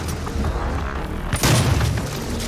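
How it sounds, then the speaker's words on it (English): Super shotgun blasts in DOOM, a heavy booming burst midway through amid dense game noise, loud and close, with no talking. "this super shotgun is just ridiculous"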